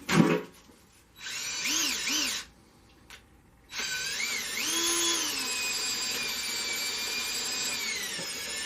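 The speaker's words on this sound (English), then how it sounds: "Next, I'm going to start spinning this with the drill." A power drill spins a Turbo Tank Cleaner wand inside a water heater, giving a steady whine that starts and stops in short bursts before running continuously and loud near the end.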